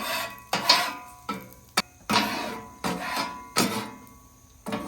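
A metal scraper rhythmically scrubbing a hot griddle beside cooking onions: about eight harsh rasping strokes, close and loud, with short sharp clicks between passes.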